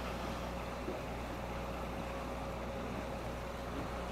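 An idling tender boat engine rumbles steadily on open water, a low continuous drone with a faint whine above it, close by and unbroken for the whole stretch.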